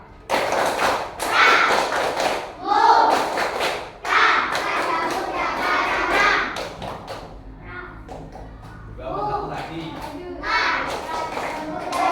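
Schoolchildren in a fourth-grade class perform the rhythmic Pramuka scout clap twice, loud, sharp group claps in quick patterned bursts close by, mixed with children's voices and chanting.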